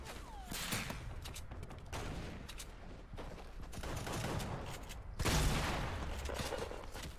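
Gunfire in Fortnite Mobile on iPhone: a run of dense shots and heavier bursts that keeps going for several seconds, with a louder burst toward the end.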